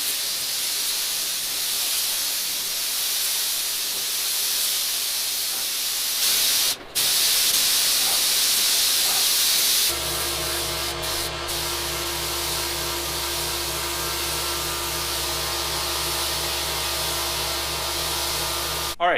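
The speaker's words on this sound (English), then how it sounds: "Mix up some more primer, and then we'll do some more spraying." A primer spray gun hisses steadily while spraying primer onto a 1971 Pontiac GTO body, a loud continuous broadband rush with a brief break, then a steady mechanical hum joins under the spray for the rest.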